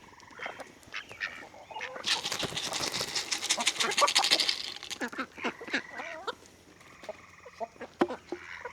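Poultry on a farm, including a few newly hatched chicks, give clucks and squawks with a burst of loud flapping and scuffling, while someone talks.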